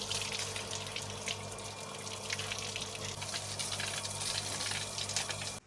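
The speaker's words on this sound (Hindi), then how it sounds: "ये देखें सर पे पानी पड़ रहा है ना" Water pours and splashes onto a person's head in a steady, continuous stream, close by, with no break in the flow.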